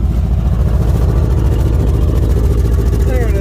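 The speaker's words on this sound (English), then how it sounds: "Well, you want to know about that blown out muffler?" A 1977 Chevrolet Nova with a blown-out muffler idles loudly up close, a deep, rough, pulsing exhaust rumble that stays steady throughout with no talk over it.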